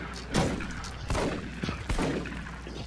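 Shotgun blasts fired at zombies in the video game SMOD Outbreak: three heavy booms spaced roughly evenly apart, each with a ringing tail, over a continuous background din.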